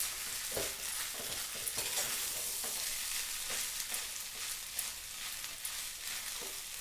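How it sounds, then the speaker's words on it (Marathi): Poha with peanuts and potatoes is gently turned in a hot oiled pan, giving a soft continuous sizzle broken by light scraping strokes at irregular intervals, close up and fairly quiet, with no voices. "आपण तो थोडीशी फिरून घेऊ हलके हाताने"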